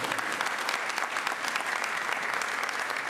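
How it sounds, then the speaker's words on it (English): An audience applauds at a celebration event in the Edo zone, dense steady clapping from many hands filling the space evenly, sustained without breaks. "Please, a round of applause."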